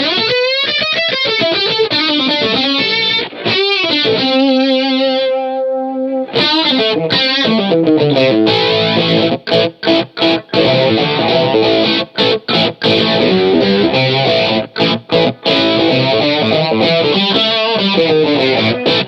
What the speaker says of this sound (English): Here is edge mode.